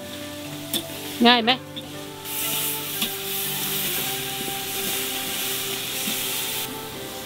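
Mushrooms roast dry over an open fire, giving a soft, continuous sizzle and faint crackle close by, with someone speaking briefly near the start.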